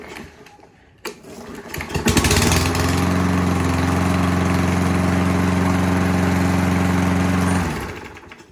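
Toro lawn mower with a Kohler 149cc engine starts and runs steadily at a smooth, even drone close by, with a few seconds of quieter handling noise before it fires up.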